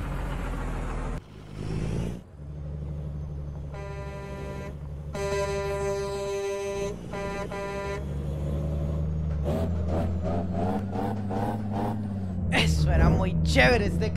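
Dump truck engine in American Truck Simulator revving and droning through a truck race, with tonal horn-like blasts midway and rising engine roars later, mixed under people chatting throughout.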